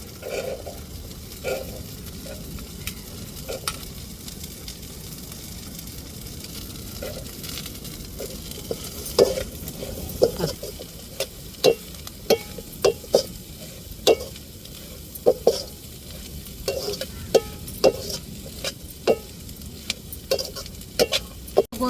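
Onions sautéing in a pan with egg and beans give a steady close sizzle, broken by frequent sharp clacks and scrapes of a spatula stirring and tossing, growing busier toward the end.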